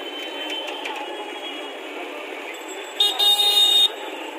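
Busy roadside traffic near a temple area in Patna, India, with a steady hiss of passing vehicles and one fairly loud, slightly broken car horn blast lasting about a second near the end.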